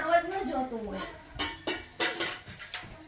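Steel pots and a pressure cooker clatter and clank as they are handled in a village household, with several sharp metallic knocks in the second half following a woman's speech at the start.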